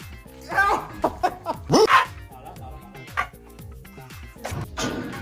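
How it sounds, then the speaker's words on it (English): A small dog barks and yips in several short, sharp bursts, close by, with a cluster of louder barks near the middle and fainter yaps toward the end. "That's just my baby dog."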